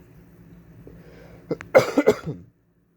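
Several harsh coughs burst out close by in quick succession, following a low murmur of background sound.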